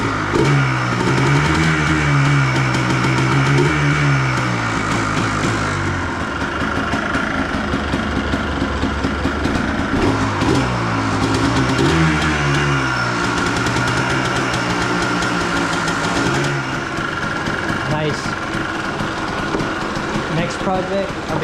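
A Yamaha Blaster ATV engine idles steadily after sitting unused for nearly two weeks, a loud, close, even putter with someone talking over it.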